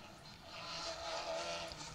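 A Renault Clio rally car passes on an asphalt stage of the Argyll Rally, its engine a distant, steady roar that swells gently and then eases, with no talking.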